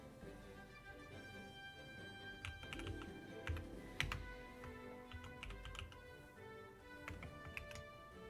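Computer keyboard keys click in irregular bursts of typing, faint and close in a quiet room, with no talking.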